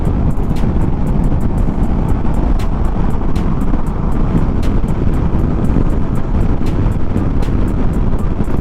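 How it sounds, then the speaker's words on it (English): Loud, steady wind roar buffets the microphone while riding a Kawasaki Vulcan 650 S cruiser motorcycle at speed, with faint regular ticks beneath the constant rush and no speech. "Not even with the wind noise, but a lot of just wind in general."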